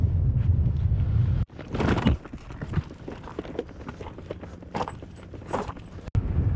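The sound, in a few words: strong wind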